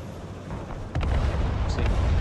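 Artillery fire in the real-time strategy game Broken Arrow: a muffled, distant booming rumble that swells noticeably about a second in and keeps rolling through a dense, steady low-end wash.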